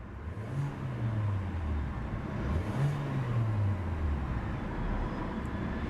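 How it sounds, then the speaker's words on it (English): A 2014 Hyundai Elantra's small-displacement engine revs up twice in smooth swells, its exhaust note rising and falling over a steady low rumble of road and engine noise, moderately loud and unaccompanied by talk. "more revvy exhaust note."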